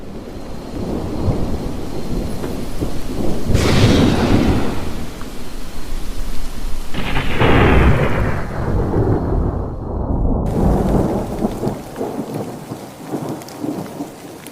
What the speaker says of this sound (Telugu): ఉన్నట్టుండి వర్షం ఏంటి ఇలా పడుతుంది?